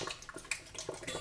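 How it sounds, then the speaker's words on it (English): Water splashes into a bowl of canned butter beans sprinkled with distilled white vinegar, a short, close, fairly quiet run of uneven gurgling pours with no voices. "pour some water in it."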